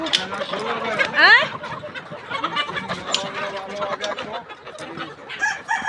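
Chickens cluck and squawk close by as a rooster crows once, with voices talking in the background.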